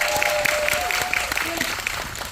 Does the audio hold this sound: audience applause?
yes